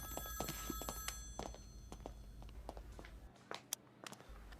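A telephone rings with a bright, steady electronic trill near the start, then fades as soft knocks and clicks follow in a quiet room.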